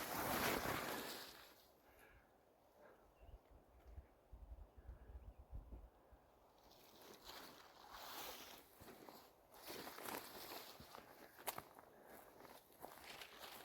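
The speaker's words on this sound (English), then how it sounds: "Boat coming." A motorboat drones by at a distance over a lake near a lean-to campsite, with faint footsteps and light wind noise around it.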